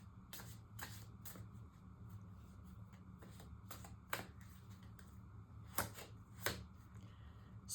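A Mysteries of Ancient Egypt Empowerment oracle card deck being shuffled, with soft, irregular riffling snaps and flutters of cards over a quiet low hum, close and faint.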